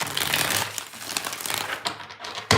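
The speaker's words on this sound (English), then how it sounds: "3 shuffles here, 3 more." Tarot cards shuffled by hand in quick bursts: close, continuous papery riffling and flicking that ends with a sharp slap of the deck.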